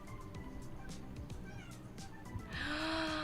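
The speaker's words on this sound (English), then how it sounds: "Did I hear a meow?" A cat meows softly a few times at close range, with a longer, rising meow near the end, over a steady background hum.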